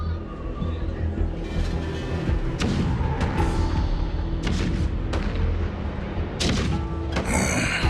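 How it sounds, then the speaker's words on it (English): Cannons rumbling in a Honkai: Star Rail trailer: a low continuous roll with several sharp booming blasts spread across the scene, loud and close, with a voice speaking over it. "Do you hear that? The rumble of the cannons."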